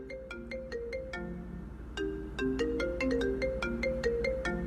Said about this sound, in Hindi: शाजिया के बाप का फोन है।